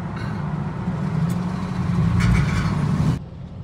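A limo's engine revs during a burnout attempt, a low rumbling surge that swells louder for about three seconds and then abruptly drops away.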